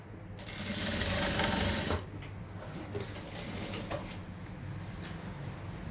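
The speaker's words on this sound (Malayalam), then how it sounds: "ആ മാർക്കിംഗ് നോക്കി സ്റ്റിച്ച് ചെയ്ത്" A sewing machine runs steadily, stitching a collar neck on a ladies' garment. The whirring is close and loud for about two seconds, then continues in a softer, uneven run of mechanical clicking with no talk.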